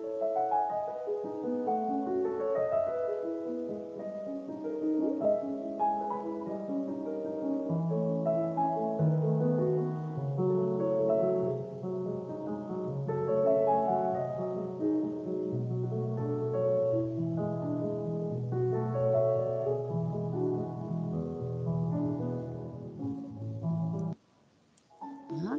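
A harmonized melody plays as a teaching example at a music theory conference, several voices moving together in steady notes for about twenty-five seconds without talk, with a short break near the end.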